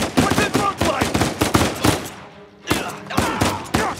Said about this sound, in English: it only took me 13 shots to kill that guy, burning through the ammo